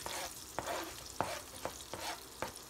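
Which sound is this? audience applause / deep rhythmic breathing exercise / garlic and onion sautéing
garlic and onion sautéing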